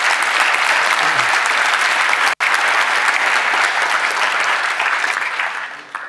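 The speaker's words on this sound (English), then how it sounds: "So a big round of applause to all the Govers in the world." A conference audience at dotGo 2016, a Go programming event, breaks into loud, sustained applause, a dense continuous roar of many hands clapping that holds for several seconds before starting to thin out.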